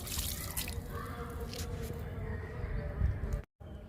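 Liquid fertilizer poured onto mint plants growing in a tub, a steady trickling, dripping splash close by with faint background noise, ending in a brief silence.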